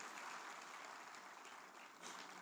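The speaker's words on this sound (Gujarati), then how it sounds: "એક જોરદાર તાળી એમના માટે" An audience at a motivational speech applauds with a steady wash of clapping from many hands. The clapping is distant and fairly soft, swells slightly near the end and has no talk over it.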